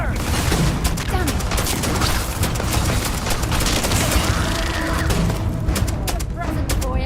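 Gunfire in the Starfield video game: rapid, sustained volleys of shots and booms crackle nonstop for several seconds, with people shouting over the shooting.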